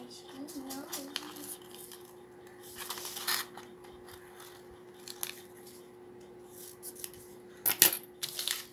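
Scissors cut through folded paper in a few short, crisp snips, close and fairly quiet, with someone speaking Portuguese around them and a sharper rustle near the end.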